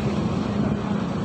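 Steady, loud drone of a boat engine heard from on board a fishing boat near Balikpapan, with wind buffeting the microphone throughout.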